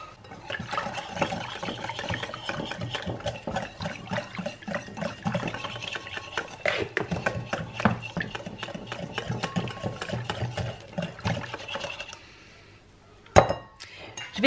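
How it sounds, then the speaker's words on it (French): Milk is stirred into a mixture in a bowl in a home kitchen, with steady scraping and clinking of a utensil against the dish for several seconds. The sound drops to quiet near the end and closes with one sharper clink. "Et après on va y rajouter donc le lait directement comme ça. Et après on mélange."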